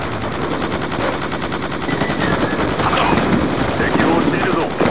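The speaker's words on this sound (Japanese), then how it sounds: "敵を撃っているぞ。" Rapid automatic gunfire from Call of Duty: Black Ops 2 on PS3 rattles in dense, continuous bursts for the whole stretch, loud and close, with faint game voices underneath.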